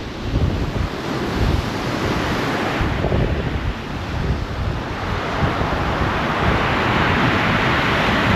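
Sea waves breaking along the Folkestone coast on a windy day, a loud, continuous roar of surf with heavy gusts buffeting the microphone and no voices.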